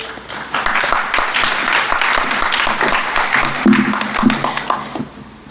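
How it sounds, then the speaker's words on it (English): Audience applause for the Kentucky State University graduating class of 2017 at a convocation, a dense steady round of clapping from a large crowd lasting several seconds, with a few brief voices mixed in. "Now, I know that we can give the class of 2017 a better round of applause than you gave them."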